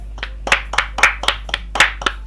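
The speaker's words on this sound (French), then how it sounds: "Applaudis, applaudis!" Crisp hand clapping in a steady, rhythmic run of about ten sharp claps, close and loud with no voices over it.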